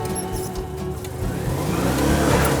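A Citroën Mehari's small engine pulls hard up a hill at full throttle, a steady mid-pitched drone that rises in revs and loudness toward the end, heard from on board with road noise.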